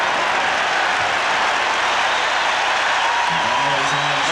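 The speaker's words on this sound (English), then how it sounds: "the crowd is very, very appreciative of the Cleveland Cavaliers' effort so far" A basketball crowd cheers and applauds the Cleveland Cavaliers during Game 4 of the 1993 NBA playoffs against the Bulls, a continuous roar of arena noise under a commentator's voice.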